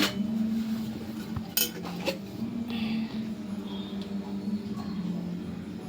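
Metal clinks and a pan set down on a stove, a few sharp knocks over a steady low hum, followed by quiet handling sounds.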